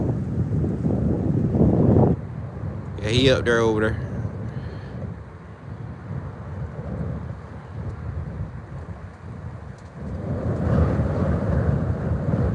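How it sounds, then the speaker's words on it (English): Wind blowing outdoors near water, a steady rushing roar with gusts that swell at the start and again near the end, while people talk over it. "That wind cutting out here"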